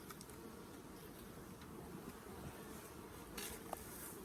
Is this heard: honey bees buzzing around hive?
yes